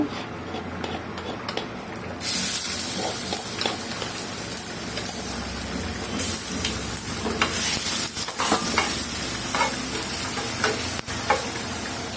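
Crushed garlic hits hot oil in a pan with a sudden loud sizzle, then keeps frying steadily while a utensil scrapes and stirs against the metal, close and continuous.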